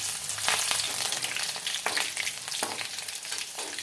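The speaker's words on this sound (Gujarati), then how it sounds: "હવે આપણે એમાં થોડાક મરચાં નાખી દેશું।" Chillies sizzle and fry in hot oil with garlic and cumin, giving a steady close crackle broken by a few sharp stirring scrapes.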